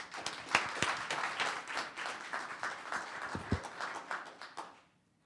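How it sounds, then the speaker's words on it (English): Audience applause fills a Town of Los Gatos council meeting chamber: a steady, close round of many hands clapping for about five seconds, then fading out quickly at the end. "Can we get a hand for Robert?"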